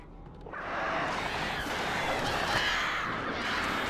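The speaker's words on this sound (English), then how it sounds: "Run away, birds." Crows caw in the video game Alan Wake Remastered, a steady dense chorus of harsh calls at moderate level with no talk over it.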